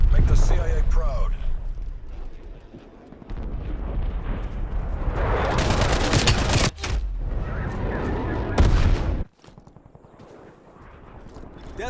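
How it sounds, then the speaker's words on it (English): An incoming artillery strike pounds the battlefield in Call of Duty Black Ops Cold War, with heavy booming blasts and crackling gunfire in loud waves that cut off abruptly, while voices talk over the barrage. "Hostile artillery targeting active. Net call. Incoming artillery."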